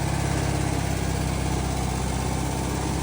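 A vehicle engine runs at a steady, close idle-like drone while backing up a hill with the clutch slipping, its even throbbing hum continuing throughout.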